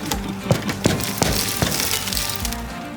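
Sharp cracks and clinks of windshield glass on a rusty Cummins-powered truck pop out a few times over a rough, noisy background, irregular and fairly close.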